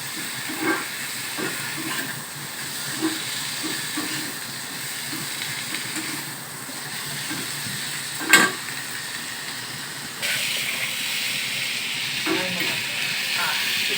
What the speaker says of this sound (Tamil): ஒரு 5 நிமிஷம் நல்லா ஃப்ரை பண்ணிடுங்க